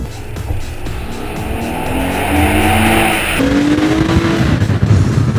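A 2013 Lexus GS 350 F Sport accelerates hard through a tunnel, its engine note rising in pitch with a gear change partway through, loud, close and echoing off the walls.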